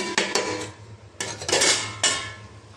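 Metal spoon scraping and clanking against a pot while amaranth greens (chaulai saag) are stirred over low flame, several bursts of clatter and scraping, close and fairly loud, with a faint steady hum beneath.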